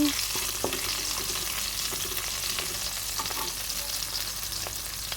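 Onions sizzling in hot oil seasoned with cumin, a steady close frying hiss with occasional stirring clinks, and no voices.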